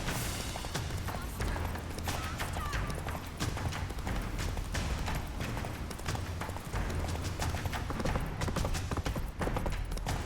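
Geralt's horse Roach trotting in The Witcher 3, a dense, rhythmic clip-clop of hooves, loud and close under a busy wash of game ambience and effects.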